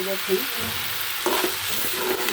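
Vegetable fry with potatoes cooking in a pan, a steady close sizzle with occasional stirring scrapes and soft clinks.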